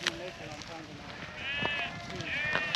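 Several sheep of mixed ages, older ewes, younger sheep and yearlings, bleat outdoors beside a creek, with two wavering calls standing out over steady background noise and talking.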